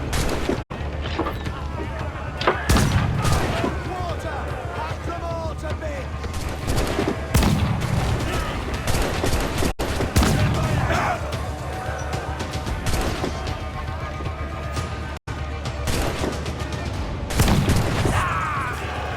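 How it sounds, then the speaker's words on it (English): Ship cannons firing in Assassin's Creed IV Black Flag: repeated heavy booms and volleys of gunfire in naval combat, loud and close, recurring every few seconds over constant battle noise. "Fire what cannons you will, and land a few strikes if you must."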